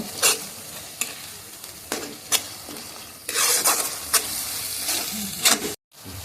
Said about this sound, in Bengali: 4 থেকে 5 মিনিট আমি হালকাভাবে কষিয়ে নেব।